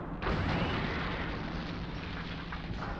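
An enemy Vitz explodes in Steel Battalion: a sudden loud blast, then a sustained rumbling, crackling roar that stays dense and heavy for several seconds, with no talk.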